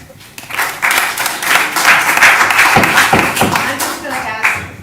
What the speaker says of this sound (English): if you keep applauding, we'll just be here later